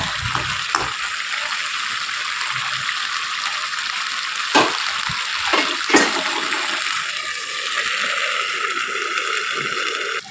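Soft bele fish curry being stirred gently in a pan, a continuous bubbling simmer with a few sharp scrapes and knocks of the utensil against the pan, close by and with no talking.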